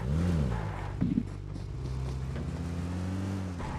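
In PUBG Mobile on the Livik map, a motorbike engine drones close by, a steady humming tone that briefly revs near the start before settling into an even run.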